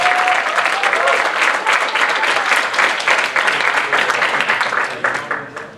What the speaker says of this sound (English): just want to give him a round of applause.